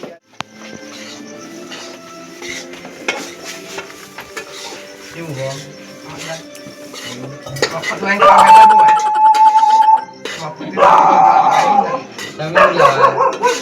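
A dog barks and yips in short loud bursts near the end of a Gujarati comedy scene, following a stretch of people talking over scattered knocks and clatter.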